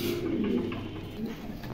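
Pigeons on a breeding farm give low, rolling coos, several close calls overlapping in a soft, continuous murmur.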